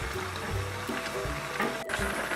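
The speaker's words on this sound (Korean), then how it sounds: "이 청국장이 푹 퍼질 때까지 보글보글 끓여주겠습니다." Cheonggukjang, a fermented soybean stew, bubbles as it boils in a pot, giving a soft continuous simmering burble with small pops and a brief clatter near the end.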